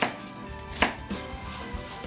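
A knife chops pike-perch into smaller pieces on a cutting board, a handful of close, irregular thuds and scrapes in a kitchen with faint background noise.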